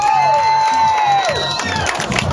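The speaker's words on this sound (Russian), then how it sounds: "Анюте аплодисменты." A crowd cheers, shouts and whoops for a contestant leaving the stage at a lively contest, a loud, continuous mix of voices with a high whistle-like tone and some scattered clapping.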